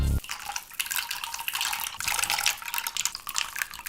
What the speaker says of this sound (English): Splashing studs in a pool.